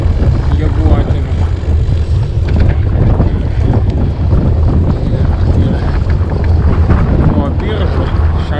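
A strong headwind buffets the microphone while cycling in rain on a long ride around Lithuania, a loud, continuous low roar with gusty rumbling and no clear voices.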